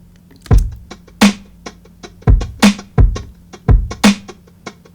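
Unwarped hi-hat drum loop from a lo-fi boom bap sample pack, played back at the wrong speed, giving slower, uneven hat hits with a dull low thump and softer ticks between, clean and without voices.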